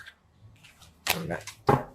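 Tarot cards shuffled clumsily by hand, giving two short, loud papery riffles and slaps close up after a quiet moment.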